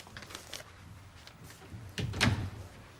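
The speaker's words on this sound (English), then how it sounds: "Close the door, would you?" An office door swings shut with a soft thud and brief rattle, preceded by a few light shuffles and creaks in a quiet room.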